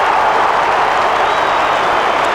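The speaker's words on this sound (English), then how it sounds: "The crowd absolutely has erupted here." A football crowd at a 1996 AFL match between Carlton and St Kilda roars in a continuous, loud wash of cheering and applause after a goal, steady throughout with no pauses.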